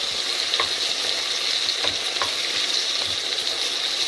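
Chopped capsicums fry steadily in a pan of blended tinned tomato sauce, a constant close sizzle broken by a few soft scrapes and clinks as the mixture is stirred through, with no voices.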